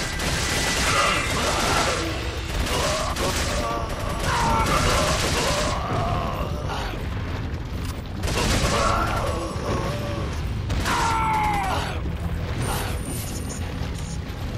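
Gunfire in Resident Evil 4 comes as a dense run of sharp shots and mechanical clanks, loud and close, with brief gaps between bursts and no one talking.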